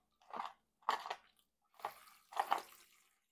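Water draining through a freshly repotted bonsai pot, four separate wet splattering drips close by, alone with no voices.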